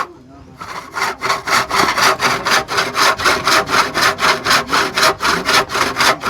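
A hand saw cuts through wood in fast, regular back-and-forth strokes, loud and close, a rhythmic rasping that starts after a brief pause.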